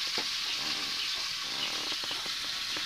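Fish such as magur and tengra frying in hot oil for a simple fish curry: a continuous, close hiss with scattered small crackles and pops, no voices.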